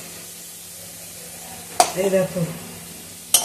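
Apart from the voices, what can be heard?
potatoes frying in oil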